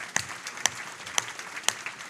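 A small audience claps sparsely, with a few separate, uneven claps spread over two seconds rather than full applause.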